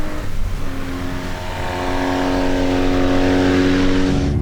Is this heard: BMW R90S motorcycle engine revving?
yes